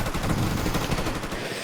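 Rapid gunfire rattles in dense, continuous bursts, loud and close, with overlapping shots filling the whole stretch before easing slightly at the end.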